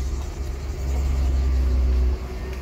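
Low, steady engine rumble from a Mercedes S202 driving in second gear, heard from inside the car. The drone swells louder in the middle of the clip and then eases back.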